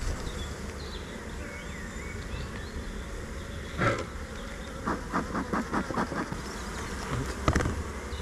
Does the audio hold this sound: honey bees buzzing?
yes